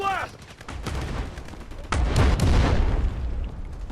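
Grenade launcher rounds exploding in the video game Delta Force, with a sharp launch followed by loud booming blasts and rumbling gunfire that swell midway and linger.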